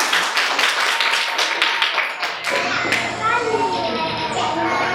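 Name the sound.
children clapping for the tiger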